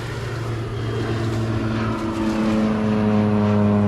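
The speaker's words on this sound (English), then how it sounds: "There goes the airplane." A propeller airplane drones steadily overhead on a farm with vegetable and chicken plots, a loud continuous engine hum with a slight pitch shift as it passes, alone without talk.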